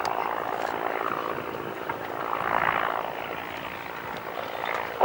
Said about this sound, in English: a very short landing run indeed in virtually nil wind